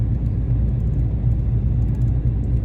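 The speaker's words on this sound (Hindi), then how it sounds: "ट्रैफिक है मगर इतना नहीं है।" Heavy road traffic rumbles from inside a car, a steady, loud, low droning roar of engines and tyres with no voices.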